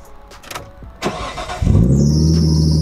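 A Nissan Skyline R34 fitted with a titanium exhaust cranks after a few small clicks and bursts into life, settling into a loud, close, rumbling idle with a high squeal from a tightening fan belt above it.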